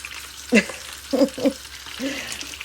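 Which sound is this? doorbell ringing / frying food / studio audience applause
frying food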